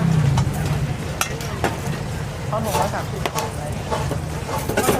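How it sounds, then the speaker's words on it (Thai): Pork neck is dropped into hot oil to reheat at a Thai street food stall, giving a steady crackling sizzle with scattered sharp clicks and clatters, while someone talks over it. "นี่เราจะไปทอดอุ่นให้ตรงนี้เลยนะครับร้อนๆนะครับ"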